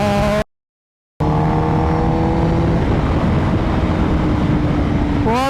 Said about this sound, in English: this is the older generation ZX-10R, so looks way better